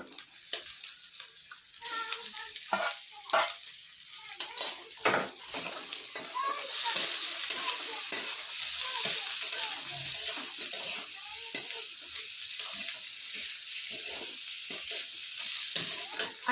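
Ginger garlic paste and chilli sizzle in hot oil in a frying pan, a continuous crackling fry with repeated scraping and stirring strokes throughout, fairly close.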